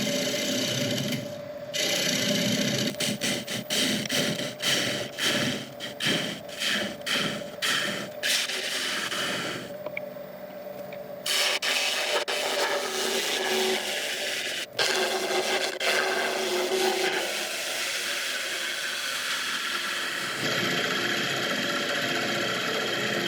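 A gouge cuts the inside of a highly figured maple bowl on a woodturning lathe, giving steady rasping scrapes over the machine's hum, with rhythmic pulsing strokes early on that settle into longer continuous cuts.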